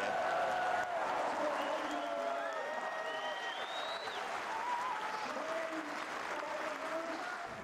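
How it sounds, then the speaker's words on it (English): Racecourse crowd cheering and applauding Frankel, trained by Sir Henry Cecil: a loud, sustained roar of cheers and applause that holds steady throughout, with whistles and voices rising over the dense clapping. "This will be some cheer."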